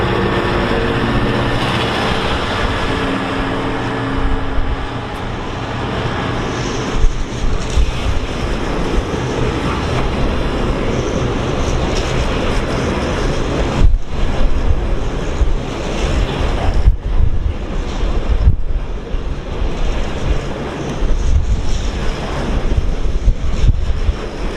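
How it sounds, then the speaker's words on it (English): Class 66 diesel locomotive 66593 hauls a Freightliner freight train from London Gateway toward Leeds, a steady loud rumble of engine and rolling wagons with heavy wind buffeting the microphone throughout, continuous and close. "We've got 66593 working a Freightliner service from London Gateway to Leeds Terminal."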